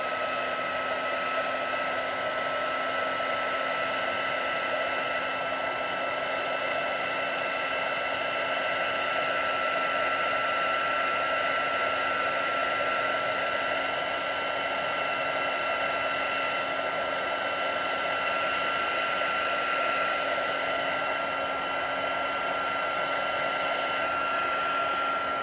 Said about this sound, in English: And then you can heat that with your heat gun.